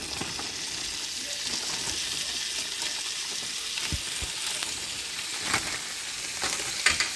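Frozen crinkle cut carrots sizzle in a pan, a steady bright crackling hiss with occasional sharper pops and spits, fairly quiet and close with no talking.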